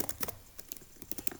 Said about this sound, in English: Now we're just gonna type your answers here.